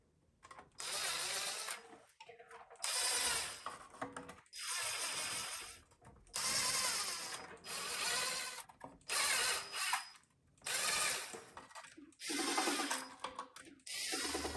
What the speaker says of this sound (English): now I'm gonna grab my cordless tool